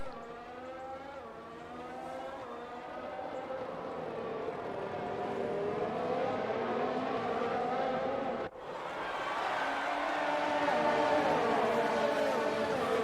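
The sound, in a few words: Formula 1 race cars in video game F1 2019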